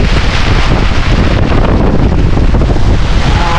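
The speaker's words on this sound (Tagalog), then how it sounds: "Subasko, lakas ng ulan." Heavy wind roars across the microphone during a sudden squall at sea aboard a small boat, a dense continuous rush of gusts and pounding rain with water noise beneath, loud and unbroken throughout.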